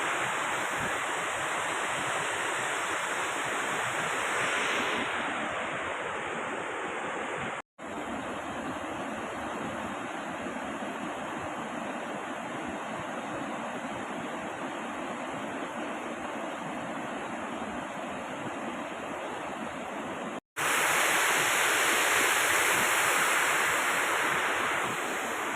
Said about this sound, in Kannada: ಫಾಲ್ಸ್ ರೀಚ್ ಆದೆ, ಇನ್ನು ಸ್ವಲ್ಪ ಇದೆ ನೋಡಿ, ತಲುಪಿದೆ ಮಳವಳ್ಳಿ ಫಾಲ್ಸ್.